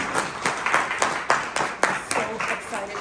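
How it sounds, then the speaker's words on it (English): An audience at an Art Gallery of Ontario conversation event breaks into brief applause, a dense burst of many hands clapping close by that rises and then tapers within a few seconds. "Let's give her a round of applause."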